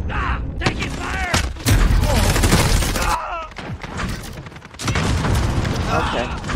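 Gunfire in the video game Call of Duty: Modern Warfare during a deathmatch, with dense bursts of automatic fire and booming impacts filling the scene and a voice briefly talking over the action.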